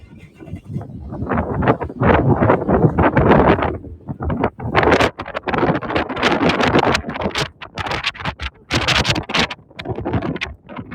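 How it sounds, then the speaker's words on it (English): Strong wind buffets the microphone in loud, rumbling gusts that rise and fall throughout in Chinatown Square, Chicago, with no clear talking. "It is windy."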